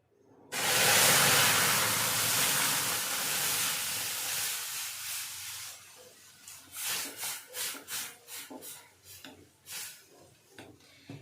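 Boiled milk is poured onto fried oats in a hot pan, starting with a loud hissing sizzle that fades into softer bubbling, followed by a series of rhythmic scraping stirs.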